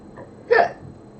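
A single short, close burp from a person.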